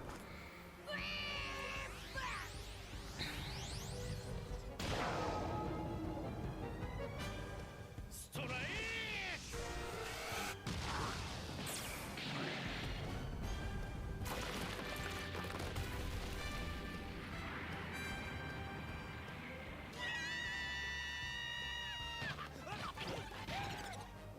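A cartoon cat from the One Piece anime meows and yowls repeatedly amid crashes, thumps and lively music, with voices speaking in between.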